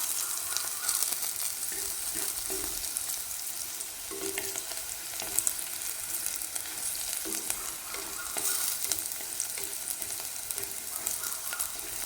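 Shallots frying in oil and being stirred in a pan for a spicy sardine dish, a continuous close sizzle with repeated scraping stirs and small clinks, no voices.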